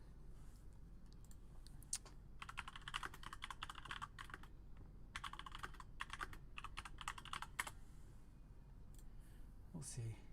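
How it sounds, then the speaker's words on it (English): Rapid bursts of typing on a computer keyboard during an online match lobby, clicks clustered in several runs with brief pauses, fairly close under a steady low background hum. "I just face roll on the keyboard."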